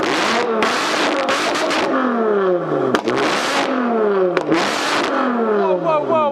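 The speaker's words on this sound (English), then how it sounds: "we've got the Evora 400 and we've got the exhaust button on, so the valves are completely open" A Lotus Evora 400 engine revs hard with its exhaust valves fully open, loud repeated surges that rise and fall in pitch, close by.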